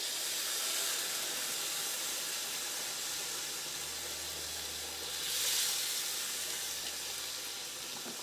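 Water poured into a simmering egg curry in a pan, giving a steady, close hiss of sizzling and steam that swells briefly midway, with no voices.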